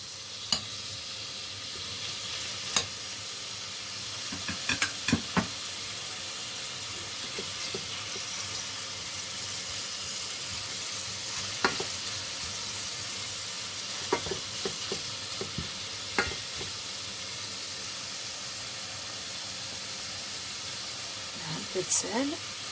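Minced meat fries in oil in a pan with a steady low sizzle and hiss, and scattered utensil clicks and scrapes from stirring. Speech is faint or absent.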